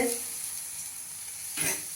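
Oil sizzles on a hot tawa griddle, a bright continuous hiss close by, swelling with a short burst of sizzling toward the end.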